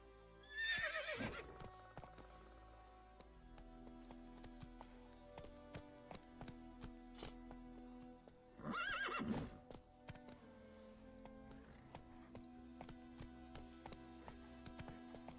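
Roach, Geralt's horse in the Witcher 3 video game, neighs loudly twice, with a long whinny at the start and another midway, while steady clip-clop hoofbeats trot along beneath both calls.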